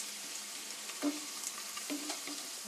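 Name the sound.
garlic chips frying in a little oil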